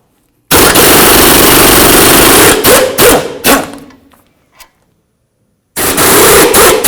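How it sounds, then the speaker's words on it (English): Mounting bolts with 17mm heads come off a 2003–2009 Toyota 4Runner front axle as an impact wrench fires in loud rattling bursts, stuttering and stopping, then pauses before firing again. "So we're going to remove our mounting bolts right here."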